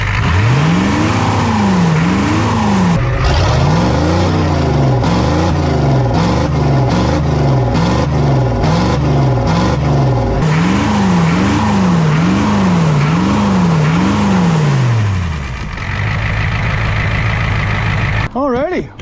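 A Ford F-350 with the 7.3 IDI diesel engine runs loud and close, its rumble rising and falling in repeated revving swells before settling back toward idle near the end.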